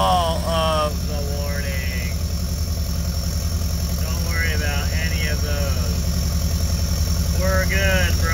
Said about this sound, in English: Oh yeah, all the turbo noise